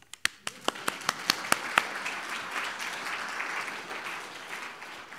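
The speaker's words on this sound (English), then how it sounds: "A big round of applause to all the members of a very special generation, which will be considered unique." Audience at a spiritual center talk applauding: a handful of sharp, separate claps speeding up over the first two seconds, then merging into a steady moderate round of applause that holds and slowly thins.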